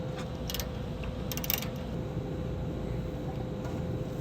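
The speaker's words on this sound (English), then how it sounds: "before tightening it down with bolts and washers" A ratchet wrench clicks in short bursts while bolts and washers are tightened on an outdoor mini-split air conditioner mount, the quick clicks standing out over a steady background hum.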